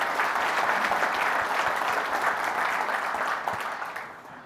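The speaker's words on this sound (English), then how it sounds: "let's give a round of applause to them to thank them for being here" Audience applause at the BMC Exchange New York 2018 event, thanking guests: a full, even wash of clapping from a large crowd that holds steady, then gradually fades away.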